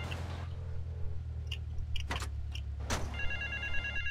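A phone rings in the video game GTA Vice City, a short electronic trill near the end over a low, steady in-game car engine drone and a few sharp clicks.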